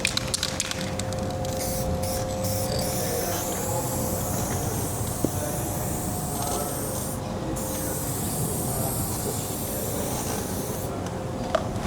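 A continuous hiss of an aerosol spray can of guide coat held down steadily, close and fairly loud, with a few short breaks and no talking.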